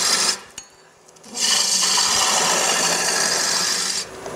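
A wood lathe spins a workpiece while a parting tool removes material: a few brief scrapes, then a loud, sustained gritty rasp for about three seconds before it eases off.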